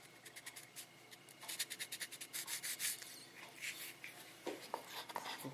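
Wet sanding rusty paint by hand: quiet, close rhythmic rubbing strokes, some quicker and some longer, with soft scratchy friction and no talk.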